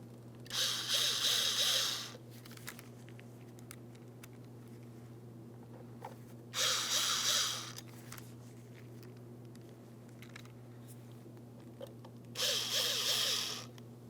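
A power driver runs mounting screws into the coolant reservoir of a 2003-2008 Toyota Matrix 1.8L, three short whirring bursts separated by pauses with a steady background hum.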